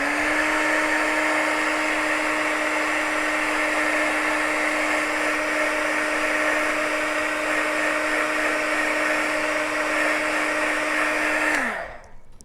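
A hair dryer runs at a steady, loud, continuous whine while drying a freshly painted piece. It is then switched off near the end and winds down quickly.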